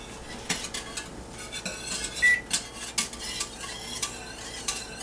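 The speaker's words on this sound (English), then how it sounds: "We keep stirring." A spoon stirs a pot of bread dough mixture on the stove, giving repeated scraping clinks of metal against the pan at an irregular rhythm, close and moderately loud over a faint background hum.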